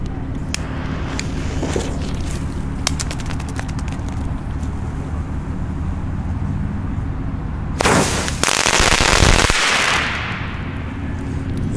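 Loud New Year's Eve firework bangs, scattered sharp cracks through the first seconds, then a dense, roaring burst of explosions around the eighth to tenth second, over steady outdoor background noise.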